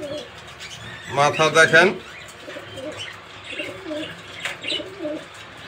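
Red checker racing pigeons coo close by in a short, throaty burst of rolling calls, with softer coos following while someone talks over them.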